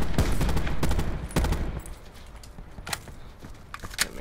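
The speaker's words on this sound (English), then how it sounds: "There's more shooting down below" Call of Duty: Blackout video game gunfire comes as bursts of rapid shots, loud at first, then sparser, fainter single cracks farther off.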